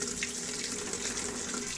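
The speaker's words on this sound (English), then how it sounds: "Now if you press it once again, it's going to dispense the water as well." A Fisher and Paykel washing machine in diagnostic mode dispenses water into its main drum. The water rushes in a steady, close, continuous stream for the whole short stretch.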